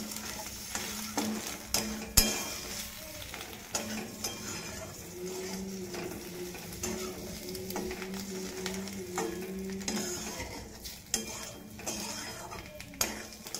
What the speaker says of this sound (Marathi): आणि अंडी चांगली परतून घेऊ आपण ह्याच्यात अंडी मसाल्यामध्ये.